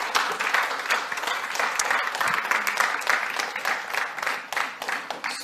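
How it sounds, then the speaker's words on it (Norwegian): A room full of people applauding at a morning panel event on AI and gender equality, dense steady clapping at a moderate level that holds throughout and thins slightly toward the end. "Skal vi gi dem en skikkelig god applaus?"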